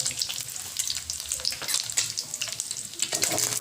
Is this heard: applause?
no